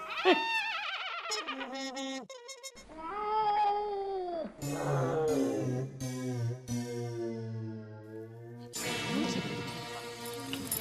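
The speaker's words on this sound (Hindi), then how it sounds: "म्याऊं म्याऊं, ये क्या है सब?" A cat meows and caterwauls in a series of drawn-out, wavering cries with short pauses between them, close and clear, with a few brief chirpy notes mixed in.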